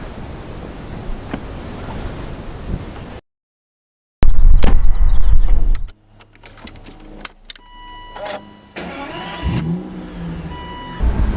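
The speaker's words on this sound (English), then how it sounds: "You want to hear that motor." A 2012 Aston Martin Virage Volante convertible engine, loud rumbling idle, then a cut of silence, a hard rev burst, and further uneven revs and mechanical noises, close up with no talk.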